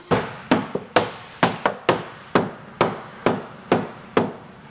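Sharp hammer blows on metal ring out one after another, about a dozen strikes at an uneven but steady pace, close and loud, during a 2JZ engine install.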